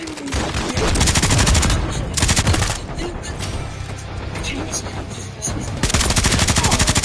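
Gunfire in the video game Call of Duty Modern Warfare 3, dense and loud with overlapping automatic bursts and single shots nearly throughout, and radio-style voice callouts mixed in.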